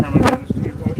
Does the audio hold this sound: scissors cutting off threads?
no